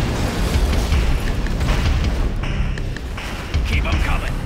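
A Tiberium refinery is blown apart in the C&C Renegade video game, giving heavy booming explosions and rumbling blasts in repeated bursts over constant battle noise.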